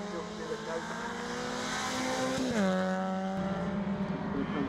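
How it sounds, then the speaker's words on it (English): Rallycross race cars at Lydden Hill, Swift Sport class, roar past with a rising and falling engine pitch and a sweeping change around the passing point, loud and continuous, with faint tire noise. "Downhill once more comes Woollett, turning his way behind Morgan Bailey there into paddock"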